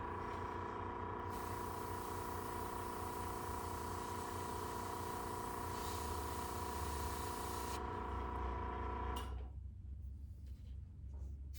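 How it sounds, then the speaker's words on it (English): An airbrush spraying paint onto an eagle artwork, a steady airy hiss that runs for about nine seconds and then cuts off, leaving a quieter low background. "So I'm just going to spray a little bit of that color up in there."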